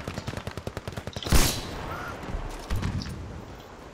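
Gunfire in Battlefield V, with rapid automatic shots at first, then one sharp loud crack and a few more distant reports afterward.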